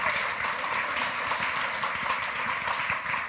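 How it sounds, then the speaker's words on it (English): Conference audience at a women's plenary session gives a big round of applause at the opening, loud continuous clapping that stays steady for a few seconds with no voices over it. "let's just start by giving a massive round of applause"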